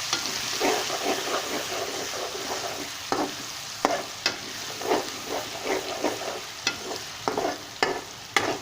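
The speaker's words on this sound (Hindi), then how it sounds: "तो इसका जो लहसुन का स्पेशली कच्चापन ख़त्म होने तक हम इसको थोड़ा सा भून लेंगे" Onion frying in a pan with ginger, garlic and green chili paste as a spoon stirs it, a steady soft sizzle broken by scraping strokes at an irregular pace, close and moderately quiet.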